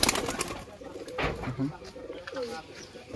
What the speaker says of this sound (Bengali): এই যে জোড়া পায়রা